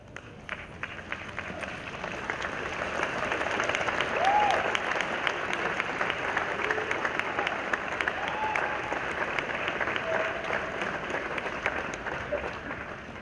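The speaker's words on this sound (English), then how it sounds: "stand and turn and applaud all of these people who played a role in your being here this afternoon" A large university commencement audience applauds at length, a dense, steady roar of many hands clapping that holds for over ten seconds with a few faint voices mixed in.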